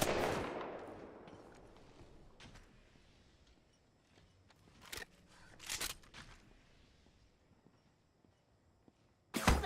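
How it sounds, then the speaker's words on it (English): Apex Legends gunfire, several sharp, fairly quiet shots scattered after an initial fading burst, with a short cluster in the middle and a final crack at the end. "They're shooting at me."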